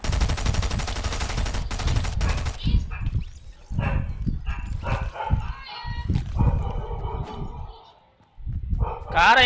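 Gunfire in the Fortnite video game, sharp bursts over the first few seconds followed by scattered shots, mixed with game sounds and someone talking throughout.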